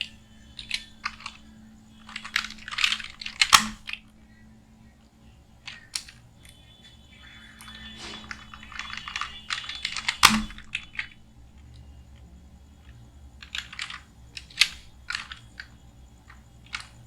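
Bursts of close computer keyboard typing for data entry in Tally Prime accounting software, clusters of rapid key clicks separated by pauses, with a couple of sharper louder key strikes standing out.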